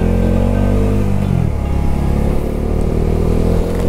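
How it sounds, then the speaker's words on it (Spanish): Honda S2000 sports car engine revving at a motorcycle racing circuit, a loud steady engine drone whose pitch drops midway then holds, heard close and alone. "Uno de los carros más bonitos, miren. El S2000."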